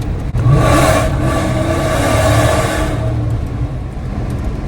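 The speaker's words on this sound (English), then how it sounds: "This exhaust is loud." A supercharged 5.7 V8 Dodge Hellcat exhaust revs loud and close, a sustained rumbling roar that swells and holds for about three seconds before easing to a lower drone, with no talking.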